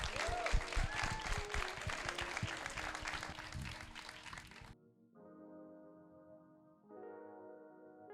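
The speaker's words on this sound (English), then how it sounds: "let's give another round of applause to our guests" A live audience applauds guests at a community culture event in Oakland, a dense, sustained wash of clapping for about five seconds that cuts off abruptly, followed by quieter sustained tones.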